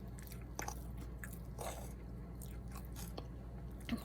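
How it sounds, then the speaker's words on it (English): Close-up biting and chewing of vegan dump cake, gooey inside with crispy edges and top, giving soft crunches and scrapes over a steady background hum, with no talking. "It's like chewing an oatmeal cookie."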